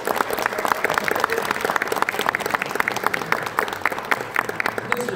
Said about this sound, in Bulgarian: Още малко аплодисменти ще ви помоля.